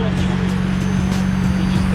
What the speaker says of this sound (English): Why don't all McLaren sound like that?